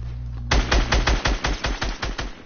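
Rapid automatic gunfire in a video game: about a dozen sharp, evenly spaced shots in a fast burst, loud and close, starting after a brief low hum with no talk.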